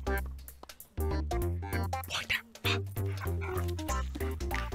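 A dog whimpers and yips in high, tonal cries that rise and fall, close and fairly loud, with short breaks between the whines.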